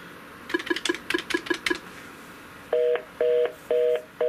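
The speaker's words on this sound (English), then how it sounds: "There's the dial tone." A string of quick touch-tone beeps from a Norstar phone system keypad, followed by several steady, evenly spaced tone bursts on the line, clear and close.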